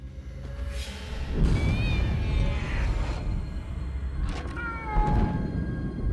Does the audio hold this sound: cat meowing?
yes